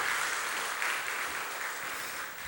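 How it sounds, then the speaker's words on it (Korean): A church congregation applauds after an instrumental solo during a Sunday service, a dense, even patter of clapping from many hands that holds steady, then eases slightly over a couple of seconds. "우리 박수 한 번만 더 해주시면 좋겠네요."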